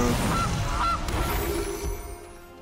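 Goose honking in the MTG Arena card game, a loud cackling honk call that fades over a couple of seconds with no talking.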